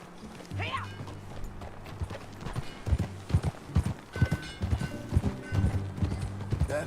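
Horse hooves clip-clop in Red Dead Redemption 2 as a horse is ridden, a steady rhythm of close thuds with a brief whinny near the start and game sounds behind.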